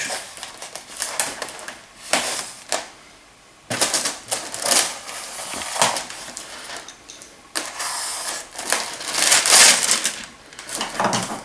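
Protective plastic foil wrapping comes off a boxed G36C replica rifle package, heard up close as loud crinkling, crackling tears in several bursts separated by short pauses.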